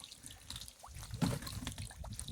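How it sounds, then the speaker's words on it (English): A solar-powered fountain filter in a small backyard fish pond spouts water, giving a light, continuous trickling and splashing with a few brighter drips, close by and moderately quiet. "spouting lots of water to oxygenate the pond"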